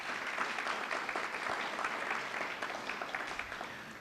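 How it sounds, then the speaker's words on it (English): A university audience gives a round of applause for nursing faculty and students at a College of Nursing announcement, steady and fairly faint clapping that continues through the whole stretch. "How about a round of applause for them?"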